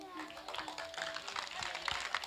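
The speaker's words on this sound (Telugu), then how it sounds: "అందరు గట్టిగా చప్పట్లు కొట్టాలి" Applause and scattered hand clapping from an audience at a children's Christmas program, a steady patter of many hands with a few sharper claps, children's voices faintly mixed in.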